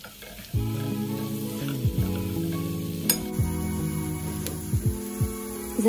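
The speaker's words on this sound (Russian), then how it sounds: "Начинаем обжаривать сначала лук." Onions hit a hot pan and start frying with a sudden sizzle, followed by repeated scraping and light clinks of a utensil stirring them, close and clear with no talk.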